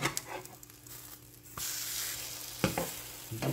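French toast sizzles steadily in a small frying pan, a close, continuous hiss that swells partway through, with occasional clinks and bumps from the pan.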